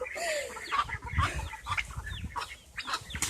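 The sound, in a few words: baby ducks being handled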